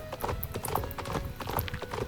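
Horse hooves clip-clop in a video game, a quick, even run of crisp hoofbeats close by with no talk over them.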